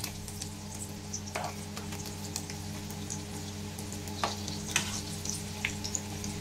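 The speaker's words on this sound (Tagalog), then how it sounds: "So sandali lang siya guys iprito." Hotdogs coated in bread crumbs fry in hot oil with a steady, close sizzle and scattered crackles and pops, some louder bursts near the end, and no talking.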